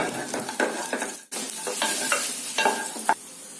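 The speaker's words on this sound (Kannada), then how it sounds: "ನಂತರ ಒಂದು 12 ಗೋಡಂಬಿನ ಕಟ್ ಮಾಡಿ ಪೀಸ್ ಆಗಿ ಮಾಡಿ ಇಟ್ಕೊಂಡಿದ್ದೀನಿ, ಅದನ್ನ ಹಾಕೊಳ್ತಾ ಇದ್ದೀನಿ. ಇದನ್ನ ಫ್ರೈ ಮಾಡ್ಕೊಳ್ಳೋಣ." Chopped cashews and raisins fry in a pan with a close, bright sizzle. A spatula stirs them in several short scraping strokes, one brief pause and a sharp knock near the end.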